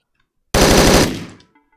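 Hotline Miami 2 gunfire aimed at the player: a single loud burst of rapid automatic shots lasting about half a second, cutting off abruptly and ringing out briefly, with no talk over it.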